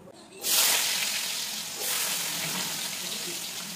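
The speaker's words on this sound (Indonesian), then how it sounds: "aku lanjutin untuk goreng kentangnya" Potatoes frying in hot oil give a steady close sizzle that swells sharply as more pieces drop in, then crackles on without break; no talk over it.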